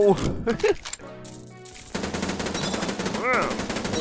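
Rapid bursts of automatic gunfire in the shooting game Paragon Zombie, close and loud, with rattling volleys and a short break before the firing resumes, while a voice talks over parts of it.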